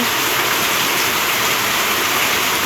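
Steady, dense rain hisses without a break, a constant wash of falling water close by with no voices.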